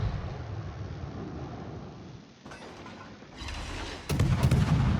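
Naval guns from a warship in a World of Warships-style naval battle game boom repeatedly through a dense rumbling wash, with a heavier close salvo near the end.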